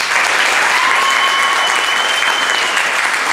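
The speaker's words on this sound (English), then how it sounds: "Guests, let's give them a round of applause." An audience at a high school Air Force JROTC ceremony claps in sustained, even applause, a dense steady patter throughout with a faint tone running underneath.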